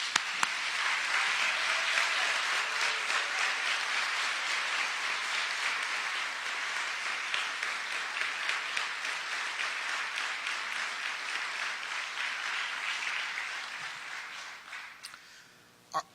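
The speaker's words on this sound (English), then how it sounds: "I ask those students from all states to please stand up so we can recognize you and applaud you for your hard work." An audience at a city's State of the City address gives students sustained, even applause that holds steady, thins out near the end and finishes with a few last claps.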